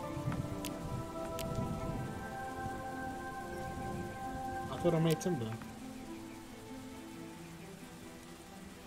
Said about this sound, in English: Ooh, rain again.